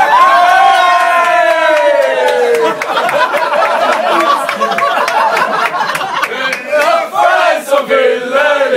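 A crowd of party guests yelling and cheering loudly at a surprise party for Kurt Haugli, voices rising together in excited shouts, then mixing into laughter and chatter.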